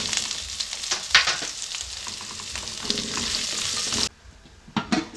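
Onions for beef pilau sizzle steadily in a hot pan, with crackles and stirring scrapes throughout. The sizzle cuts out abruptly near the end, followed by a few faint clinks.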